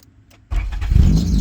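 A Honda Accord with an all-motor H23A engine fired up by push-button start: after a quiet moment the engine catches abruptly and settles into a loud, rumbling idle close by.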